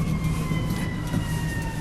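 An ambulance siren passes at a distance, a steady two-tone wail sustained over low traffic rumble and engine noise, loud and continuous throughout without any talk.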